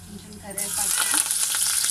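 Curry leaves hit hot oil with dried red chillies for gongura chicken, bursting into a loud sizzle after a quiet start and crackling steadily.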